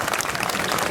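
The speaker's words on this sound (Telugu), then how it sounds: "వాళ్ళ కోసం ఒకసారి కూర్చున్న వాళ్ళు క్లాప్స్ కొట్టండి." A seated audience at a speech on Telangana history claps briefly, a dense burst of applause from many hands that holds steady throughout.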